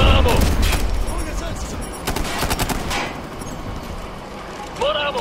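Ghost Recon Future Soldier firefight with a frag grenade thrown: dense, loud automatic gunfire and rattling shots fill the scene without pause, with a heavier thump partway through.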